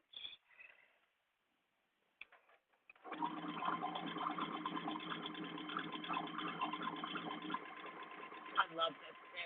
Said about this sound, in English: I'm going to do my favorite knit hemming stitch